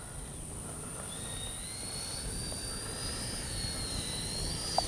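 A Freewing A-4 Skyhawk 80mm RC jet flies at a distance. Its faint, steady turbine whine slowly shifts pitch over a low background rumble, with no talk.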